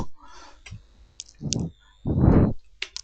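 Computer mouse clicks sound as a few sharp, close ticks spread out between louder muffled thumps of handling noise, with no voices.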